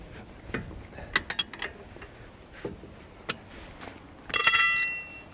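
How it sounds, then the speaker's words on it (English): Ratcheting wrench turning an 18 mm upper control arm ball joint nut on a 2014-2018 Chevy Silverado, a series of close, sharp metallic clicks in short bursts, ending in a louder rasping ratchet sweep. "then if you have a ratcheting wrench, makes it go a little faster"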